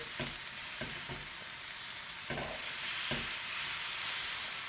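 Lamb chops fry in a hot pan with a steady bright sizzle, broken by a few soft knocks and shuffles as they are turned gently; no voices.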